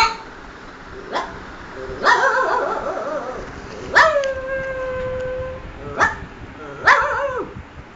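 A voice mimics a distant dog, giving short yips and drawn-out howling calls, several spaced bursts with one long sustained wail in the middle.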